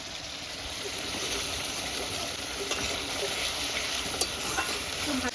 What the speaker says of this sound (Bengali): তুমি মশলাটা কষিয়ে অল্প টমেটো দিয়ে